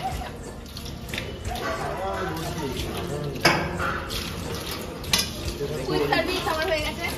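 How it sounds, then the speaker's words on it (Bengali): Dishes being scrubbed and washed by hand, with clattering pots, running water and stirring-like scrapes close by, a few sharp knocks standing out, while people talk over the washing. "আমিও বাসন মাজবো এখন"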